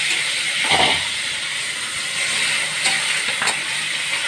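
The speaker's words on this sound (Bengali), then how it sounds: "দিয়ে এবার জলটা দিয়ে দেবো।" Water poured into a hot pan of frying potatoes with poppy-seed paste for aloo posto gives a steady loud hiss and sizzle throughout, with brief bursts of steam near the start and later, and no talking.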